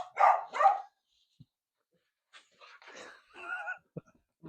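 A dog in a garage gives two sharp, close barks, then after a pause some quieter whimpering and a few softer yelps, fairly faint overall.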